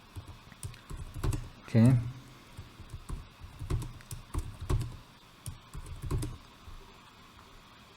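Keys on a computer keyboard tap in short irregular clusters while someone types into form fields, soft clicks near the microphone, with a brief spoken word early on.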